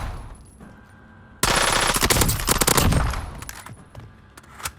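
An older gun fires in a video game, a loud sustained automatic burst of rapid shots lasting a couple of seconds, then quieter game ambience with a last distant shot.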